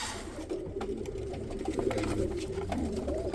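Pigeons, including young birds, coo softly in a loft, with low, rolling calls repeating at close range over faint background rustling.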